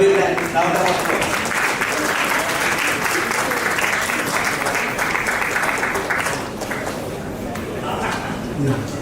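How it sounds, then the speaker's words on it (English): Steady audience applause at a national sexology conference in Pune after an honoree receives a shawl and pagdi, a dense, continuous clapping that eases slightly toward the end. "Please give a big round of applause."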